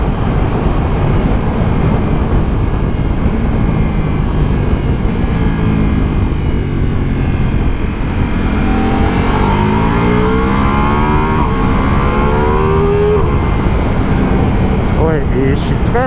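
Ducati Multistrada V4S motorcycle engine accelerating hard on the road, a continuous loud roar with rising revs and gear changes, mixed with heavy wind rush throughout.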